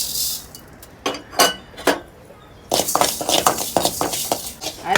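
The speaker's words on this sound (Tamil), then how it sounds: "மீன் குழம்புக்கு மசாலா அரைக்க கொஞ்சோண்டு அரிசி வறுக்க போறேன்." Dry rice roasting in a pan for fish curry masala, with sharp clinks and scrapes of a utensil against the pan, sparse at first, then a denser, busier run of clattering stirs, close and fairly loud.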